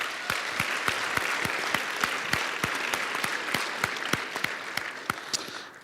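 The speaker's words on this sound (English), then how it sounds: "Let's give them a round of applause" Audience at a Toastmasters District 26 spring speech contest claps for the dignitaries, a fairly faint, steady patter of hand claps with sharp, evenly spaced strikes standing out and no talk.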